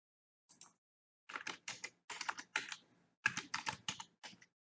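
Bursts of typing on a computer keyboard, entering a name into a Nuxt.js web app form, with quick clustered keystrokes separated by short pauses, close and clear with no talking.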